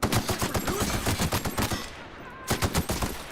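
Gunfire in The Outer Worlds video game: rapid bursts of sharp, loud shots in quick succession, a brief pause, then another short volley, with no talking.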